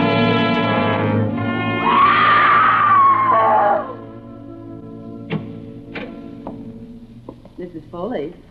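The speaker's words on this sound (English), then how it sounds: "You mustn't scream like that." A woman screams in a classic radio drama: a loud, wavering scream with heavy reverb and echo lasts about two seconds near the start, then trails into quieter studio sounds and faint voices.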